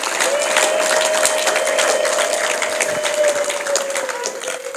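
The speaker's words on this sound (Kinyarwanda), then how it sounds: "dukomere Imana amashyi tuyishimire" A church congregation applauding together, a dense and steady wash of clapping that holds loud for the whole stretch with a sustained musical tone running through it.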